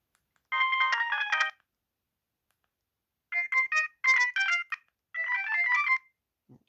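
An Alcatel OT-E265 mobile phone from 2006 plays polyphonic ringtone melodies: a bright one-second burst of tones, a pause, then two longer tuneful phrases, loud and clean with no talk.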